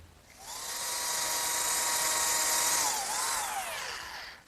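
A router fitted with a dovetail bit, mounted under a router table, whines steadily as it cuts the male part of a dovetail joint in pine, its pitch sagging briefly under load near the end, loud and close with no talk.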